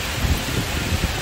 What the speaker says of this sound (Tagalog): Sobrang lakas ng ulan tsaka ng hangin.